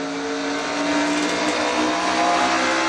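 An onboard race car engine from a racing video game, Castrol GTX Cup Series, holds a loud, steady high-pitched drone, revving slightly upward with tire noise, close and continuous with no talk.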